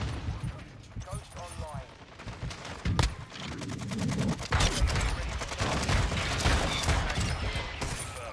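Gunfire in Call of Duty: Modern Warfare 2 multiplayer, with rapid bursts and single shots that crack almost continuously. A heavier blast lands around the three-second mark. A voice talks faintly underneath.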